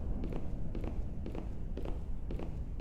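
Footsteps walk down a hallway in a horror video game, a slow, evenly spaced series of about five heavy thuds over a low background hum.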